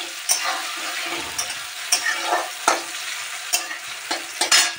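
Onions fry in a pan with a steady close sizzle, broken by repeated sharp scrapes and clacks of a spoon stirring them, with no talking.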